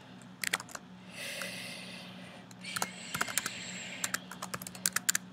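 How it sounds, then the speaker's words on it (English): Fingers tapping a computer keyboard during a lecture, the clicks coming in irregular bursts over a quiet room hum, close and fairly soft. "It's always one of the scariest things typing in front of people"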